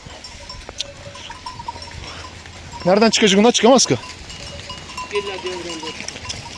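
A flock of sheep on the move near a river crossing, with a few close bleats bunched in a short burst amid a shepherd's talk and faint bells and rustle in the background.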